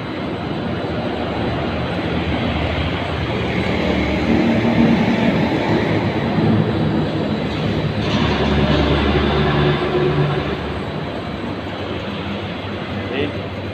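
A rotary stainless steel candlenut sieve, roughly 7 meters long and 1 meter wide, runs with a loud, steady broadband mechanical roar that holds constant throughout.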